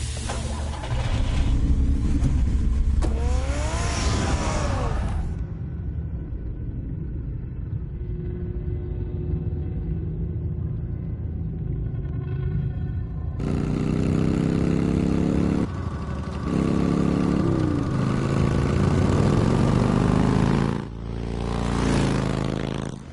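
Batman's car in the Telltale Batman video game runs loudly as its engine hums and surges. A quieter stretch with tonal drones comes in the middle, then the revving returns strongly with a short dip near the end.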